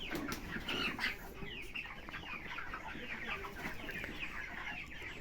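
A flock of chickens on a poultry farm clucks and squawks continuously, a dense, busy chorus of overlapping calls close by with a steady background bustle and no voices.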